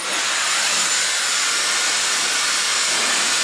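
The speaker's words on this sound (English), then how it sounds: "Add the attachment for the blow dryer" A hair blow dryer fitted with a nozzle attachment runs steadily for a few seconds, a close, loud, even airy whoosh with no talking over it.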